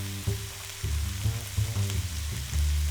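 Garlic shrimp frying in a pan while being stirred: a loud, close, steady sizzle broken by repeated stirring scrapes and a low underlying hum, with no talking.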